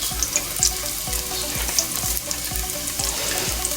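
Three large diced garlic cloves frying in about a tablespoon of olive oil, a steady close hiss with regular scraping stirs and occasional pops.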